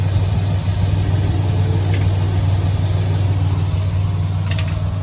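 A Ford EF Falcon engine idling after an oil change, a steady low rumble with a constant hum, close and loud with no revving.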